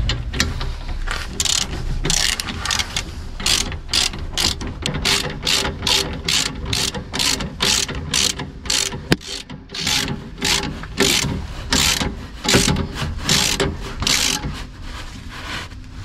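A hand ratchet clicks in rapid, steady bursts while tightening the rear shock absorber bolt on a Renault Kangoo, loud and close, with brief pauses between strokes and no voices.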